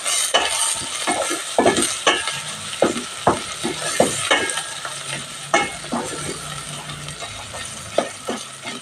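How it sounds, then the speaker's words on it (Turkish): Chopped red peppers and tomatoes fry in a pan, a steady sizzle broken by repeated sharp scrapes and clicks of a utensil stirring against the metal. "Şöyle bir güzel de onun kokusu çıksın karıştırayım."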